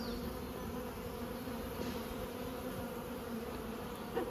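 Honey bees swarm around the frames of a five-frame nucleus hive being moved into a nine-frame super at Coramba, making a dense, continuous close-up buzz that holds steady throughout.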